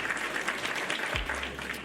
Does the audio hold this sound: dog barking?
no